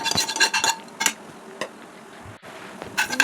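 Coriander seeds dry-roast in a pan, stirred with a metal spoon that scrapes and clatters in quick uneven bursts, with quieter pauses between strokes and a faint sizzle underneath.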